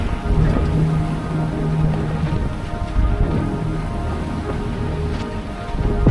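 Seawater sluices over an outboard motor mounted on a sailboat in rough mid-ocean seas at night, a steady loud rush of water and wind noise with low surging washes throughout.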